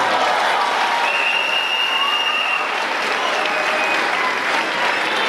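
Congregation at a church child dedication clapping steadily, a thick, even roar of many hands that holds at a constant loud level, with a faint high tone running through it.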